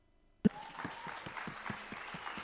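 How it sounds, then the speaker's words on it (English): Applause at a youth empowerment week event welcoming a minister, starting abruptly with a sharp burst and settling into steady crowd clapping with distinct individual claps, moderately distant. "Let's give him a round of applause."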